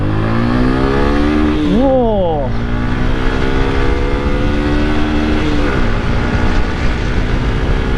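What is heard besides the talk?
Suzuki Gixer motorcycle engine revving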